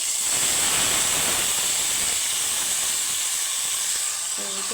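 Whole cardamom and spices hit hot oil in a broad, loud, continuous hiss that holds steady across the few seconds and eases slightly at the end, close by and with no voices.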